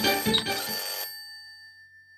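A telephone rings in a hotel's deluxe room: a loud, bright electronic burst lasting about a second, then a thin tone lingers into near silence before the next ring begins.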